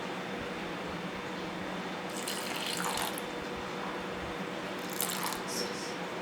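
Water running into a wet rice grinder holding soaked rice being ground for appam batter in a home kitchen, a steady splashing flow under a constant motor-like hum, with brief brighter gushes partway through.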